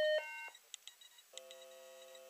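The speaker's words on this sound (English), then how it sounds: "that's the computer's sort of stream of thought comes out as beeps" A Toshiba laptop emits a short run of electronic beeps: a bright tone, a few brief chirps, then a sustained chordlike bleep, quiet and close with no talking.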